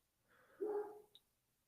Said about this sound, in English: My dog is yelling.